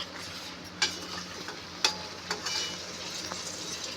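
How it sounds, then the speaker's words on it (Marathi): A spiced pigeon pea mixture bubbles and fries in a pan, with oil starting to separate. A quiet, steady sizzle is broken by a few sharp pops and crackles, with no talking. "बघा त्याला किती छान उकळी फुटते आणि छान खमंग असा वासही येतोय त्याचा।"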